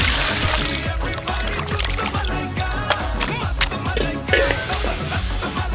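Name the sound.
water being poured into cooking mutton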